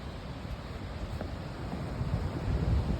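Cold wind blows on a snowy, frigid Minnesota day, a steady broadband rush buffeting the microphone and swelling slightly toward the end.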